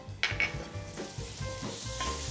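Unsalted butter sizzles in a hot pan, a soft, steady frying hiss up close with a few light clinks of utensils against the pan.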